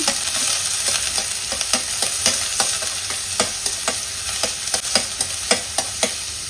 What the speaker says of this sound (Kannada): ಸೊ ಇವಾಗ ಈರುಳ್ಳಿಯನ್ನು ಫ್ರೈ ಮಾಡ್ಕೊಳ್ತೀನಿ.